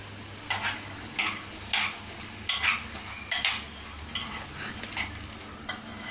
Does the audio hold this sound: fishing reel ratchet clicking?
no